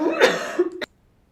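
A person clears their throat with a short, close cough, a single rough burst followed by a brief gravelly rasp that stops abruptly into silence.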